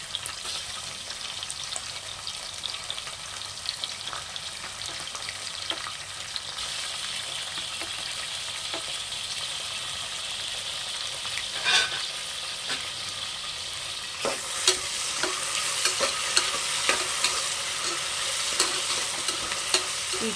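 Tomato frying in oil for a vegetable pulav makes a continuous close sizzle with soft stirring scrapes, growing busier with sharper crackles toward the end, and no voices.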